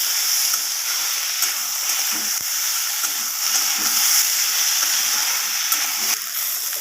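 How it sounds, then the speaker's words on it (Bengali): Tender taro stolons sauté with ginger paste and spices in a pan, producing a steady close hiss of frying punctuated by a few faint stirring knocks. "এরপর ভালোভাবে আমি মশলার সাথে আবারও কচি লচিগুলোকে কষিয়ে নিচ্ছি"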